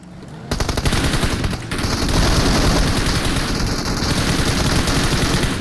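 Loud, sustained rapid-fire machine gun bursts in PUBG Mobile rattle almost continuously after a brief quiet start, dense and close, with no pauses for talk.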